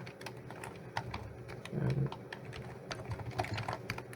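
Router configuration commands are typed on a computer keyboard in quick, irregular bursts of close, crisp key clicks, with a slightly louder thud in the middle and no speech.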